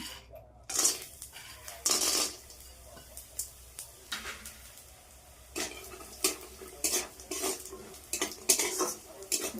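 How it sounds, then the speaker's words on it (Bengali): Lentil dumplings (bori) frying in oil in a pan, with a faint sizzle beneath repeated sharp clinks and scrapes of a utensil against the pan, in irregular bursts. "এই তেলের মধ্যে দিয়ে দেবো বড়ি"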